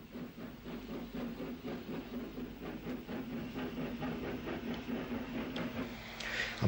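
A Mogul steam locomotive works a train on the line between Portadown and Dungannon in Ulster, giving a steady rhythmic exhaust beat over continuous rolling rail noise, moderately distant and alone without talk.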